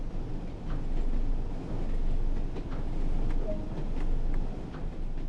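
Low, steady rumble of a train moving along the Tees Valley Line in Train Sim World, swelling and easing gently with faint clicks over the track.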